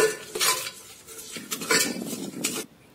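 Vegetables and peanuts stirred in oil in a pan for mango rice, with repeated metal utensil scrapes and clinks against the pan in uneven strokes, close and fairly loud, no voice.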